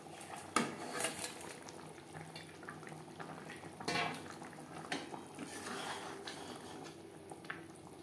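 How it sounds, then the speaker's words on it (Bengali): Fish curry gravy for a Bhola bhetki kalia bubbling in a pan, a soft steady simmer with scattered pops and a couple of louder clinks of utensils against the pan, close and without voices. "3-4 মিনিট গ্রেভি বেশ ভালো করে ফুটিয়ে নেব।"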